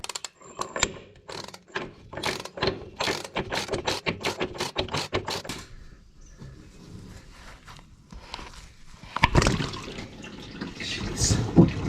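Wrench turning a stubborn threaded fitting with an O-ring stuck in its threads on a Takeuchi TL6 tracked skid steer, a rapid series of close ratcheting clicks and scrapes, then rougher metallic clatter near the end.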